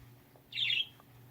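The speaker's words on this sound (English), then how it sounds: "my birds know I'm awake" Pet birds give a single short, bright chirp, close and moderately loud over a low steady hum, with quiet room noise before and after.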